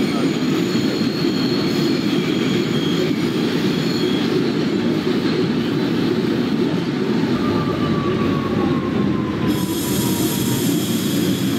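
A simulated R62A subway train in the OpenBVE train game rumbles steadily along the tracks on an express run from Flatbush Avenue to Dyre Avenue, with a continuous roar and high squealing wheels, loud and close throughout.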